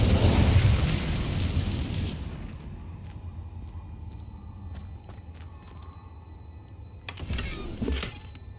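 An Incendio fire spell is cast in the Hogwarts Legacy video game: a loud, roaring fiery burst that fades over about two seconds, followed later by a shorter crackling flare.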